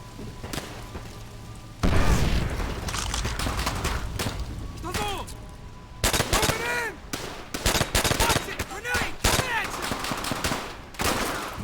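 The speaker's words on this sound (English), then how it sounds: "how's this gun firing with no bullets in it?" Guns fire in bursts and single shots in the video game World at War, with loud rapid cracks and booms scattered through the clip and a voice talking between them.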